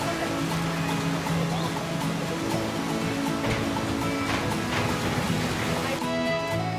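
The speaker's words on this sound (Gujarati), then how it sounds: "રસ્તામાં જે ઝરણા અને નદીઓના અવાજ આવતા હતા" Streams and rivers rush along a Himalayan trekking trail on the Hamta Pass route, a steady broadband wash of flowing water filling the whole stretch without pause.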